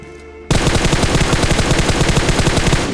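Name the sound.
gunfire in a mobile battle royale video game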